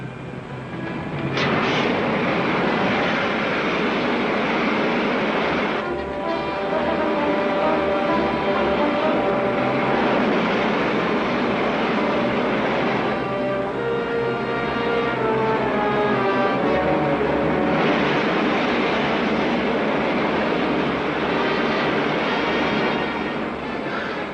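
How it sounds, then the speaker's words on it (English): A spaceship's main jets fire as a sustained, loud, roaring rumble that holds steady for over twenty seconds, with whining tonal sweeps and warbling layered over the thrust. "Firing main jets"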